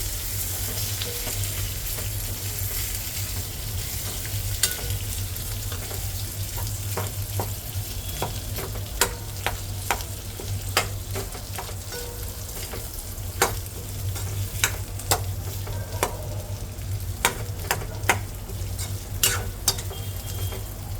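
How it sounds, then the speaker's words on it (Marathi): Boiled chopped potatoes fry with a steady close sizzle in a pan for an aloo bhaji, while a utensil scrapes and taps the pan in irregular strokes as they are stirred. "आणि आपण बॉईल केलेले हे चॉप्ड पटॅटो घालूया. आणि त्यांना टोस्ट करून घेऊया आपण."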